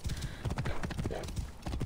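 A horse gallops in the Assassin's Creed Origins video game, its hooves beating a fast, steady rhythmic clatter throughout, loud and close over a faint ambient background.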